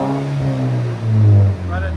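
A 2019 Volvo S60 T6 2.0L turbo with muffler delete and Vibrant exhaust revs hard in one loud, close burst that swells and drops off within two seconds, with a deep idle rumble on either side.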